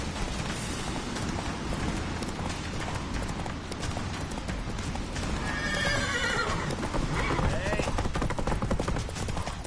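Roach the horse gallops with rapid clip-clop hoofbeats and lets out a loud neigh partway through in The Witcher 3, all set against busy game sound, with some speech mixed in.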